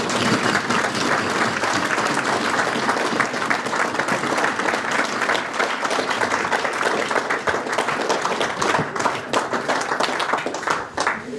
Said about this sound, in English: So we could give another round of applause for Mohammed